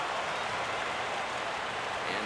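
A stadium crowd of around 24,000 in the baseball video game MLB The Show 14 on PlayStation 3 cheers as supporters rise to their feet, a steady broadband roar of applause and voices.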